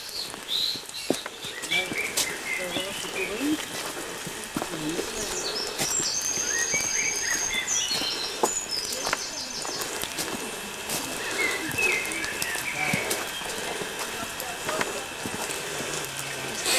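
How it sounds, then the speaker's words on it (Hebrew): Birds chirping and calling in a forest, scattered tweets and short trills at moderate distance over a soft outdoor background, with occasional quiet voices in the mix. "תשמעי את הציוצים של הציפורים?"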